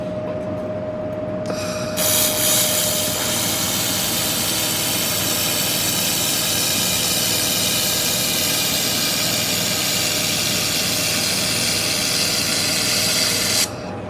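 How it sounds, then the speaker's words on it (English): Fanuci laser welding machine running a weld, a steady broadband hiss and hum that starts abruptly about two seconds in, holds level for roughly twelve seconds and then stops, with no talking. "I'm going to initiate the laser"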